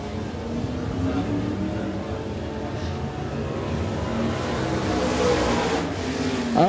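A Sportsman-class stock car at Smoky Mountain Speedway runs a qualifying lap, its engine a steady, loud roar sustained throughout and swelling near the end as it passes closer.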